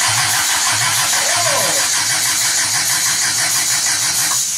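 A 1972 Toyota Celica with a swapped 18RG engine cranks repeatedly with the choke partly on, a rhythmic churning starter whir, loud and close, without firing into a run.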